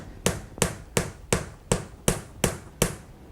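Wooden dowel tapped down into a buttercream cake tier to countersink it: eight sharp, evenly spaced knocks roughly every half second, close and clear with no talking.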